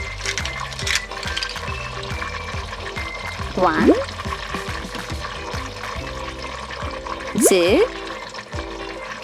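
Toy sharks splash into water during a toddler animal puzzle activity, two brief splashes standing out over a steady background of music, with a voice counting aloud.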